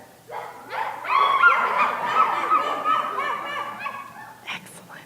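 An audience at a church story time imitates a dog barking loudly enough to shake palace walls: a burst of many overlapping voices barking and yelping together for several seconds, then a brief trailing yelp.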